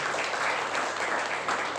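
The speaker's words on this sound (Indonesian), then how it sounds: "Tepuk tangan untuk PT BEST." An audience at a business seminar claps in sustained, dense applause, a steady wash of many hands heard from within the crowd.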